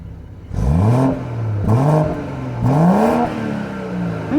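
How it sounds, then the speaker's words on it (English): A turbocharged inline six-cylinder engine in a new BMW 740i M Sport is revved three times in quick succession. Each blip climbs in pitch and falls back to a steady idle, close and fairly loud. "Let's do a little rev time on the 6-cylinder engine."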